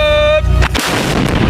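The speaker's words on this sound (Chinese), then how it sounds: "这款火炮" A single loud boom from a Chinese vehicle-mounted artillery gun with a semi-automatic loader, fired at close range; the sharp blast comes about two-thirds of a second in, after a steady tone and engine rumble.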